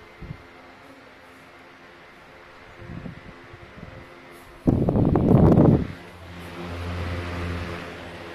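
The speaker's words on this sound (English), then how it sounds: "Because the wind's so strong from this fan." Wind from a red 16-inch stand fan, a steady close airy rush with a brief louder buffeting gust midway and faint mechanical hum beneath.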